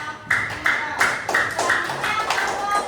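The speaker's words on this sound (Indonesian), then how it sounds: "Tepuk tangan untuk kelompok" A fourth-grade class claps hands together in a patterned, evenly spaced rhythm for a group of classmates, sounding close and moderately loud, with faint voices in the background.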